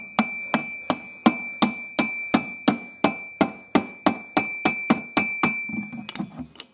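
A hammer taps the bent metal edge of a 20 litre steel drum in a steady run of about sixteen evenly spaced ringing strikes, close and loud, before trailing off into a few lighter knocks.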